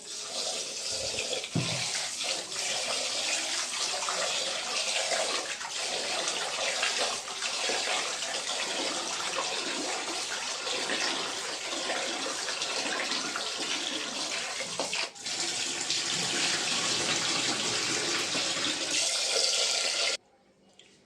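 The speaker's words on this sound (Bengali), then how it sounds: "চাল ধুয়ে জল নিয়ে নিয়েছি" Rice being washed under a steadily running kitchen tap, a continuous close splashing and pouring of water that holds at one level for about twenty seconds and then stops abruptly.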